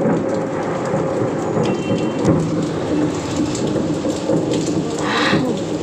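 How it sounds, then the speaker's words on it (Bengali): Heavy rain pours steadily with low rumbles of thunder rolling underneath, dense and close throughout. "একদম বৃষ্টি দিয়ে দিয়েছে। দেখছেন আওয়াজ পাচ্ছেন, গুরুম দুরুম"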